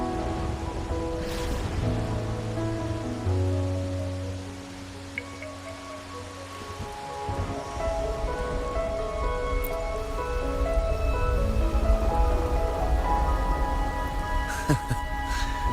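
Rain falls steadily in Wuthering Waves, a continuous wash of drops that runs the whole time beneath a game music score, with no voices.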